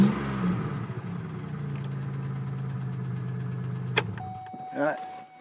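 A cold 2002 Chevy Malibu engine, just restarted and suspected of a faulty crank sensor, idles with a steady low hum, close and even, broken near the end by a sharp click and a brief higher tone.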